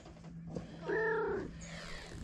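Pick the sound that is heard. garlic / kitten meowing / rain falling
kitten meowing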